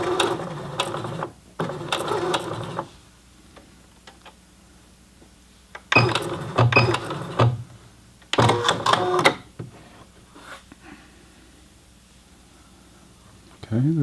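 A Singer Heavy Duty 6800C sewing machine stitches fabric at its slowest speed in several bursts of rapid mechanical clatter, separated by quiet pauses, heard up close.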